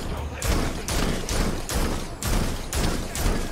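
Gunfire in Gotham Knights rattles in rapid bursts, a dense, loud, rhythmic volley of shots repeating about every half second, close and unbroken.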